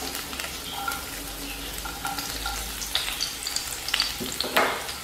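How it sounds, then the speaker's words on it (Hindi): Finely chopped garlic and coriander fry in hot oil in a kadhai while Chicken 65 is being made. A steady, moderately loud sizzle carries scattered crackles and pops, with no talk over it. "ऑयल गर्म हो जाएगा तो इसमें हम ऐड कर देंगे गार्लिक"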